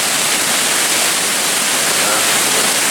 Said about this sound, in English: I'm perched pretty precariously on the very tippy top of the waterfall where all the action happens